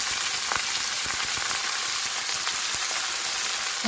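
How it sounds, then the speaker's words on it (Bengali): Chunks of pumpkin, potato and carrot fry in hot oil with five-spice seeds and grated ginger, giving a steady, loud, close sizzle with scattered small crackles and no one talking. "ভালো করে ভেজে নেব।"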